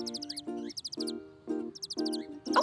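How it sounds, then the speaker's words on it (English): Bright, repeated chirping bursts in a quick rhythm, several tweets per phrase, close and clear with a soft tonal hum beneath. "You're right. Those are birds."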